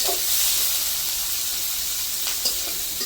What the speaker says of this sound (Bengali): দিয়ে দেব পেঁয়াজ এবং কাঁচামরিচ। একটু ভালো করে ভেজে নেব।